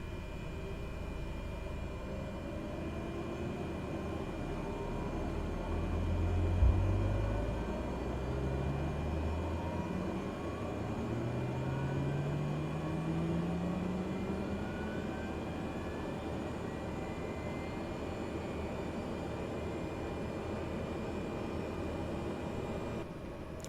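A Cessna Grand Caravan turboprop engine spools up after the starter engages, a low rumble rising into a steady running drone with climbing whine tones, continuous and close with no talk.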